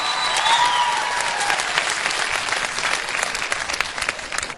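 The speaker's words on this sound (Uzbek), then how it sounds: "Qizg'in alqishlar bilan Mahmud Chavak." An audience claps warmly for performer Mahmud Chavak at a stage show, dense sustained applause filling the whole stretch and thinning slightly toward the end.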